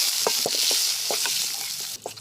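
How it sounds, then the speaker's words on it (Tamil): Three normal-size tomatoes and shallots sauté in a hot pan for a thick salna, giving a constant loud sizzle broken by quick scraping strokes of a stirring spoon. "3 நார்மல் சைஸ் தக்காளி அதில் சேர்த்து இதையும் சேர்த்து வதக்கிடலாம்."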